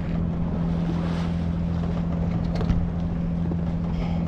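A sailboat motoring under engine power on a calm sea off France's Atlantic coast, with a steady low engine drone and wind and water noise throughout, no talk.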